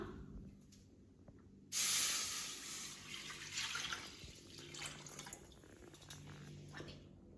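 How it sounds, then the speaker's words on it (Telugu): Water pours into a cast iron kadai in a home kitchen, a steady splashing rush starting abruptly and running on for several seconds, fairly faint. "దీంట్లో వాటర్ యాడ్ చేస్తున్నా"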